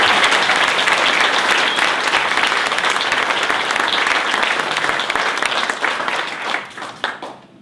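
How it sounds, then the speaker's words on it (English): A wedding reception crowd bursts into sustained, dense applause that holds strong for several seconds before thinning into a few scattered final claps. "I certainly think that deserves a round of applause."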